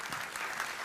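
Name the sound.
audience applause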